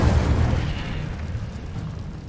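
A fire spell cast in the video game Hogwarts Legacy, a single loud whooshing burst of flame that hits hard at once and then rolls off into a fading roar over a couple of seconds, with no talking.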